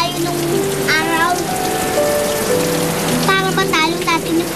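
Steady rain falls and patters on a surface at night, a constant wash of sound beneath soft tones, with a voice speaking over it.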